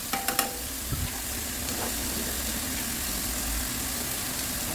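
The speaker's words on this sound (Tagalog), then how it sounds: "Gisa ng maigi ang ating kamatis." Tomatoes being sautéed in a pan, a steady low sizzle under a constant background hum, opening with a few sharp clinks of a utensil against the pan, then settling into an even fry with no talk.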